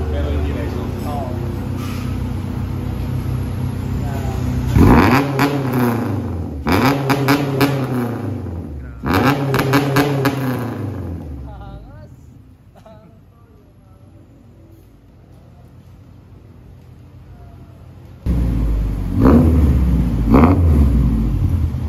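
Honda Civic EG with a new center exit muffler exhaust, revving in several sharp bursts between idle stretches, a throaty, aggressive rasp close by with people talking alongside.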